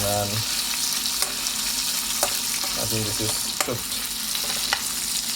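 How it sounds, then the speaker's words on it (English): Steady oil sizzle and crackle of shrimp frying in a pan, with occasional clinks of a utensil stirring; a voice speaks briefly. "the pan frying shrimp, I would like to mix it up"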